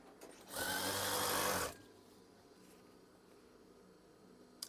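A sewing machine runs in one steady burst of about a second while stitching the hem of a curtain, loud and close, then stops and leaves a quiet room.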